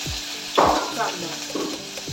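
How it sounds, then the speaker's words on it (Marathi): Onion frying in hot oil with mustard seeds, cumin, asafoetida, green chilli and curry leaves for a drumstick dal: a loud close sizzle surges in bursts as the pan is stirred, then settles to a steady crackle. "हे व्यवस्थित आपण तेलामध्ये फ्राय करून घेऊ आधी."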